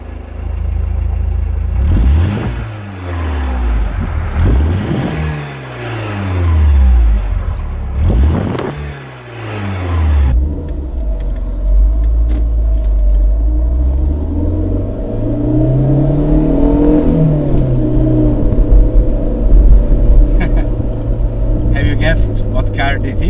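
A Fiat Barchetta's 1.8-litre, 131-horsepower engine revs up and down in repeated swells, then settles into a steady driving drone with a rising pitch, heard from inside the car.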